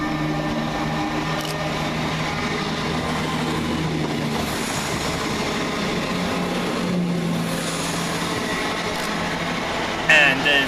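Two Class 175 diesel units running as a pair speed north through Bournville station, a loud sustained rumble and rail roar close by that holds steady for the whole stretch, with a clatter at the very end.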